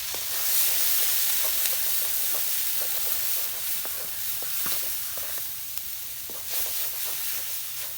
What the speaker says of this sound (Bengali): তেলটা গরম হচ্ছে এখন আমি শাক গুলা ভাজবো